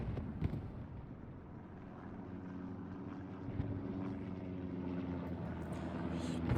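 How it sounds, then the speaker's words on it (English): A reconnaissance plane in the Hell Let Loose war game passes over a strong point, its low engine drone rumbling steadily and growing slightly louder under wind-like noise. "Reconnaissance plane comes right over the top of the strong point."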